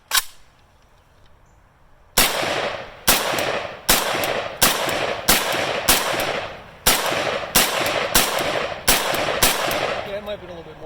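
An East German AK rifle fires about a dozen loud, sharp shots close by after a brief quiet start, spaced roughly every half to three-quarters of a second in a steady semi-rapid rhythm, each crack ringing out with a short tail.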